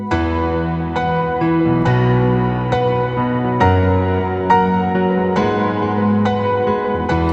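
Keyboard chords struck one after another, each a full, ringing open harmony with a high octave on top, decaying before the next; no voices.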